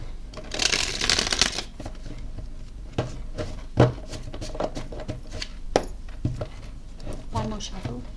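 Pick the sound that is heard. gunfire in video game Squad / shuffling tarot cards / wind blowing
shuffling tarot cards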